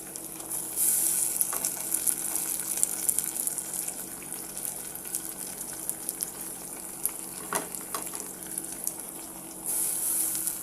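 Onion and tomato frying in a pan for fresh coconut and chana dal curry, a steady moderate sizzle with occasional stirring scrapes and clinks, heard close.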